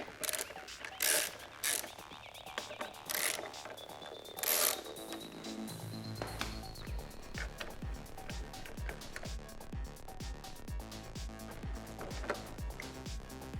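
Hand ratchet removing fasteners from a Ducati side panel, a few sharp clicks at first, then a long, rapid, even run of close ratcheting clicks, with no talking.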